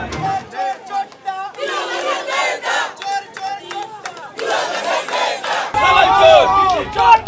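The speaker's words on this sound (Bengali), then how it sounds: "তাকে লক্ষ্য করে চোর স্লোগান দেন বিজেপির কর্মী সমর্থকরা।" BJP workers and supporters outside a police station chant 'thief' at Trinamool candidate Ratna Chatterjee, loud rhythmic shouted slogans from a close crowd, repeating in bursts and swelling toward the end.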